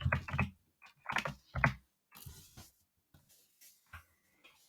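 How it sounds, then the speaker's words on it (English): Typing on a computer keyboard, with quick clusters of close clicks at first, then sparser, lighter taps trailing off. "you just type in flows"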